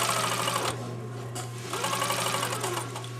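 A sewing machine runs an eased seam, its feed dogs drawing fuller bottom fabric in under the top layer; a steady close mechanical whir with a low motor hum, pausing briefly and then resuming.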